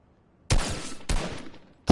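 Two loud, sharp gunshot bursts from a shooter video game, each crack followed by a short decaying tail, separated by about half a second, with the start of a third at the very end over near silence.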